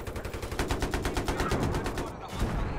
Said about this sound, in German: Ein Glück hat er daneben geschossen.